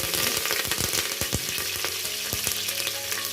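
Curry leaves sizzle as they fry in hot oil in a pan, a loud, bright, continuous crackle with sharp pops and stirring scrapes, close up, with no talking.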